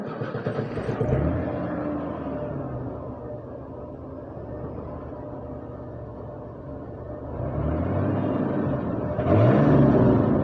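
A 1980s Ford F-150 truck engine runs after a fuel tank boost pump replacement, a steady low rumbling idle that swells in revs around the middle and again near the end, heard up close with no talking.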